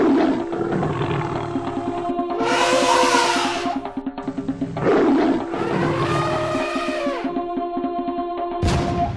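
A tiger roars in a village while trying to attack a farmer's goat, with several loud, drawn-out growling roars rising and falling over a steady layered background.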